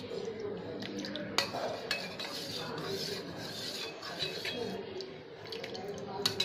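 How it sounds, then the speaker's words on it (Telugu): A spoon stirs lemon juice into lemon sharbat in a vessel, soft clinks and scraping against the container repeating steadily at close range, with a quiet background hum. "ఇప్పుడు నిమ్మకాయ అంతా కలిపేద్దాం అన్నమాట"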